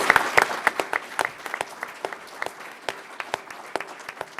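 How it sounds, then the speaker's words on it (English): Audience applause at a community foundation speakers' event, a steady patter of many hands with sharp individual claps standing out, moderately loud and fairly close. "let's give them a big round of applause for thinking about this"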